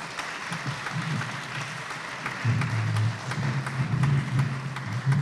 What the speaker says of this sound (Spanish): Un aplauso para el colegio.